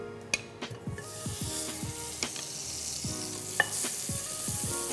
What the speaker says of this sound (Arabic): حطينا الزبدة القطعة الكبيرة لنعمل الصوص